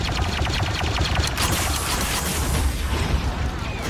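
Sustained burst of video game gunfire fired over a teammate's position, a dense continuous rattle of rapid shots with booming undertones throughout, loud and close.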